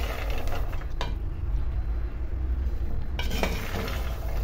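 Peanuts being stirred in a hot pan after the heat is off, giving a steady dry rustling and faint sizzle with a few soft scrapes and clinks of the utensil against the pan.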